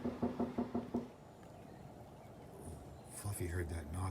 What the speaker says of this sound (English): That's my neighbor knocking.